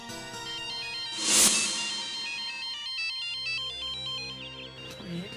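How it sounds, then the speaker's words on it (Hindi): A melodic mobile phone ringtone plays a repeating electronic tune, with a brief burst of rustling noise early on. "ये तो मैडम की रिंगटोन है।"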